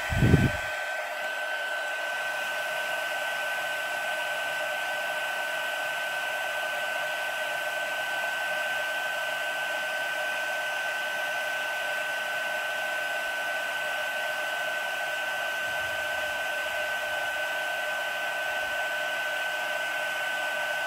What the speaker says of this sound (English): I like to come in with my heat tool from the bottom so that the blowing air doesn't blow all my embossing powder away.